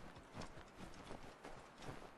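Horse hooves gallop through snow in the video game Assassin's Creed 3, a steady, fairly quiet rhythm of muffled repeated thuds with no talking over it.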